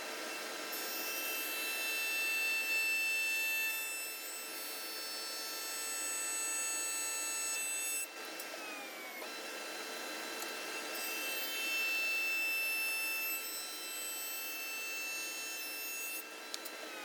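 A jointer planes a tapered wooden table leg fed along a ramp: a steady, loud, broadband whirring cut that runs almost unbroken, with a brief dip near the middle before the grinding hum resumes.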